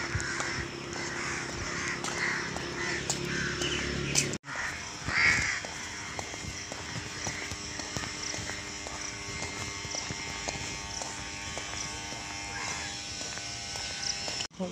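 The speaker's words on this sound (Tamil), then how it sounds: "இந்த நேரத்தில் பறவைகள்லாம் வந்து பார்த்திங்கன்னா மரத்தில் இருக்குது," Crows caw from trees during an early morning walk, with repeated harsh calls at middling distance over a constant buzzing drone and other birdsong.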